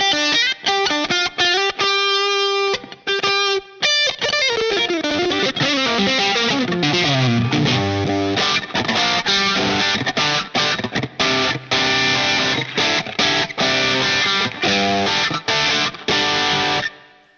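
Electric guitar played through a Line 6 Pod HD500 using its Blackface Lux Vib amp model, based on a Fender Deluxe Reverb with vibrato, giving a driven, slightly distorted tone. Sustained chords open into a busy, continuous run of picked riffs.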